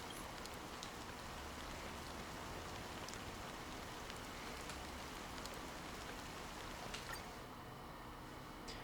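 Rain falls steadily in a game scene, a continuous soft hiss of drops with scattered brighter patters and ticks, evenly spread and fairly quiet, with no talking.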